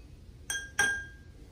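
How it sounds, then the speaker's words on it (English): Two bright clinks of a spoon striking drinking glasses partly filled with water, one about a third of a second after the other, each leaving a short ringing tone that fades in a quiet room. "When you tap one of the glasses, the spoon or utensil creates a sound wave that travels through the water inside."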